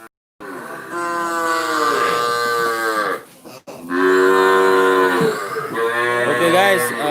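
Cattle in a pen low loudly and up close, two long drawn-out moos followed by a third rising call, deep and resonant, with no talk over them.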